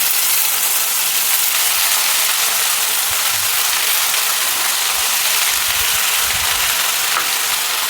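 Data greens drop into hot oil with white sesame seeds, starting a steady, loud sizzle. The frying hiss runs unbroken and fills the whole stretch with no talking.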